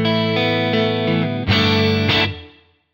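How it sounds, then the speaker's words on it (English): An electric guitar played with a clean tone through a Quad Cortex, no compressor, a few sustained strummed chords that ring out and fade away at the end. "our clean tone without the compressor is like this."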